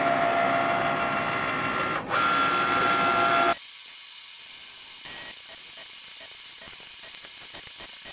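Cricut Maker cutting fabric for a quilt, first a steady mechanical whirring and clicking of the machine, then it stops and quieter rustling and small clicks follow as pieces are handled.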